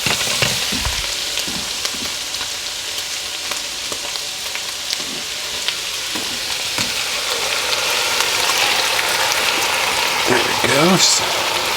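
Canned diced tomatoes and a handful of thyme hit the hot bottom of a vegetable beef soup pot, giving a loud, steady sizzling hiss with scattered stirring knocks and a brief tonal squeal near the end.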